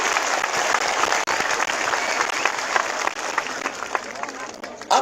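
Loud, sustained applause from a large crowd at a mass political gathering, dense clapping running steadily throughout with voices mixed into the roar.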